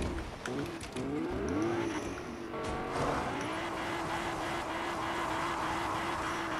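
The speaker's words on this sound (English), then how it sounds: "Oh, nice drifts. He do be drifting" A car drifting in the Fortnite video game, an engine revving and sweeping up and down in pitch, then a sustained steady whine as the car holds the slide.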